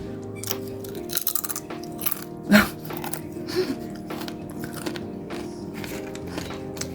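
Dried mulberries being crunched and chewed up close, with several crisp bite and crunch bursts against a quiet background, no talking.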